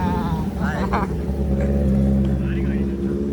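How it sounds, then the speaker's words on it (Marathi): A car engine idles and revs steadily on a village road bridge, its low rumble loud and close throughout while people talk over it. "गाडीचा आवाज बघा."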